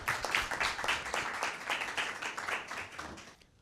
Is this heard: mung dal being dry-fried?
no